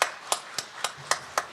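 A congregation claps in blessing at a church new year dawn prayer service, six sharp, evenly spaced claps, close and clear with no voices.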